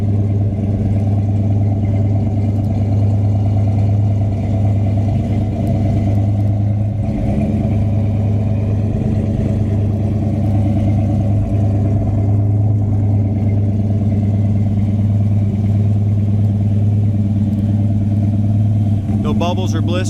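A silver 1972 Chevrolet Chevelle with dual exhaust and chrome tips idles nearby, giving a constant low, throbbing rumble that stays level throughout.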